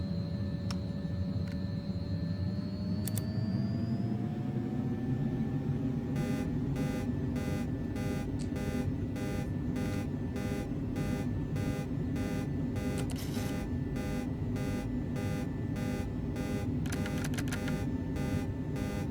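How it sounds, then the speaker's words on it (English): Rapid, regular electronic beeping of a cockpit warning alarm in the X-Plane 11 flight simulator game, pulsing over a steady engine drone, with a few brief tones before the repeating beeps begin; no voices. "I don't really know what this kind of warning means."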